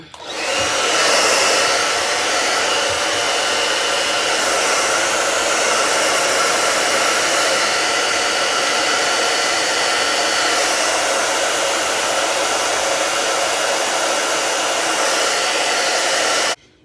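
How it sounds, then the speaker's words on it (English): A hair dryer set to cold air blows steadily and loudly for the whole stretch while drying a lace wig closure, with no voices. "Now, I blow dried it with cold air because the hot air seems to kind of just melt it back"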